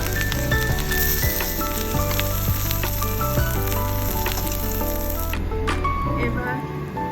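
Cauliflower and eggplant fry in hot oil with a bright, steady sizzle and occasional spatula scrapes, the hiss dropping away near the end.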